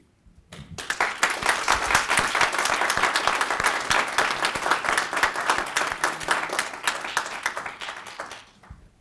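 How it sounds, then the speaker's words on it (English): Audience applause for a panel of speakers at an academic conference, a dense, steady wash of many hands clapping that swells in quickly, holds for about eight seconds and then fades out. "Let's have one more round of applause for these guys."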